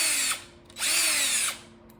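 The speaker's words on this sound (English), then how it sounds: "We're not gonna pilot this time because we do know the size of the screws that we're using." A power drill drives screws into a GPU mining test bench, with two loud, close whirring bursts separated by a short pause.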